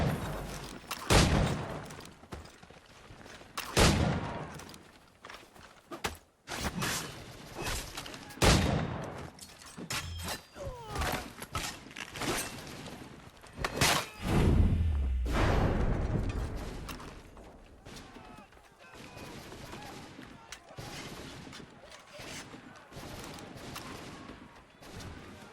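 Redcoat musket fire in the video game Assassin's Creed III Remastered: loud, sharp cracks arrive in ragged volleys and scattered single shots, with a heavier rumbling burst midway and fainter shots trailing off.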